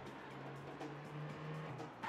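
Cars drive past on a road in the video game The Getaway, a continuous engine drone with a brief tire squeal, fairly close and steady throughout, with no talk.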